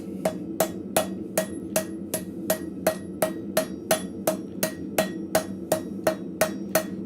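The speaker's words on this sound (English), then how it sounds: "while we're hitting it, we actually want to keep rotating as much as possible" A blacksmith hammers scrap metal into an arrowhead socket, the work rotated between strikes: steady, evenly spaced ringing hammer blows, about two per second, close and clear over a low background hum.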